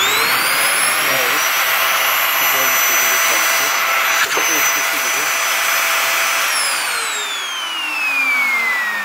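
An Arçelik Tornado Ergo vacuum cleaner motor, just reassembled after repair, runs with a loud, steady high-pitched whine and airflow roar, and its pitch drops and falls away near the end.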